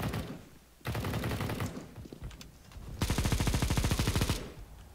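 Bursts of automatic gunfire from a CS:GO match, two long rapid volleys separated by quieter single shots and clicks, loud and close with no talk.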